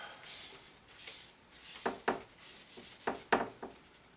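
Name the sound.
scraping gray paint off a palette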